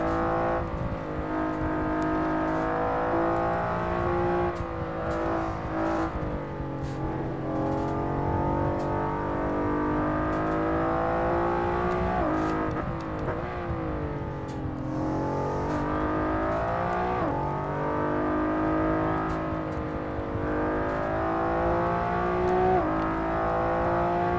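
A 380-horsepower Honda NSX GT2 race car in Assetto Corsa roars steadily, its engine pitch rising and falling as it shifts through gears and lifts for corners, loud and close throughout.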